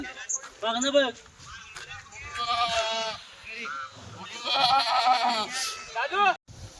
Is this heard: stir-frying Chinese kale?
no